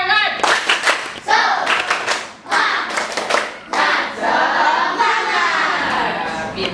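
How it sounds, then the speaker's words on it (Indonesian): A classroom of children performing a rhythmic spirit clap together, a rapid series of loud, close hand claps in patterned bursts, with young voices calling out between the clapping. "Tepuk semangat."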